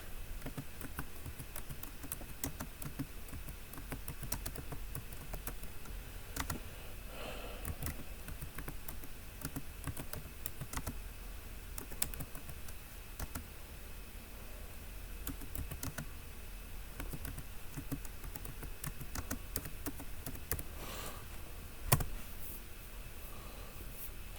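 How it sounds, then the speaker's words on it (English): A computer keyboard is typed on quickly in short irregular bursts of soft, faint clicks over a low background hum, with no talking. "I could type it in real fast"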